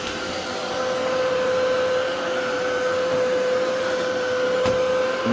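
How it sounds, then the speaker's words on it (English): A Womow 2-in-1 handheld cordless vacuum cleaner runs steadily and close up, its motor giving a constant loud whine with a sharp tonal hum and no talking throughout. "A really cool vacuum"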